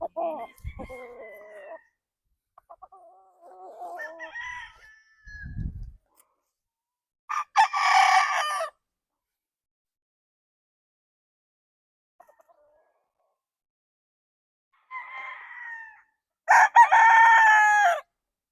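A Roundhead gamecock stag crows several times at close range, with clucks and softer calls between, separated by quiet gaps.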